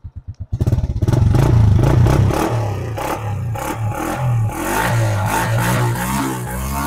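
A Honda Dream motorcycle engine starts with a few sputtering pulses, then revs hard and loud twice, rising and falling before settling into a throbbing idle close to the listener.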